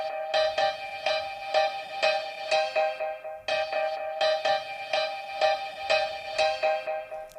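Chopped piano hits sampled from a Dutch Schlager song, rearranged into a two-bar loop with delay: bright clipped chord stabs in a syncopated pattern with echoing repeats trailing after each, the phrase cycling twice, clean and alone.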